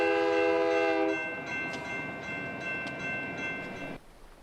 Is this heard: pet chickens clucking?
no